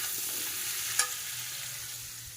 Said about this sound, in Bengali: তার জন্য সবজি ভেজে নিচ্ছি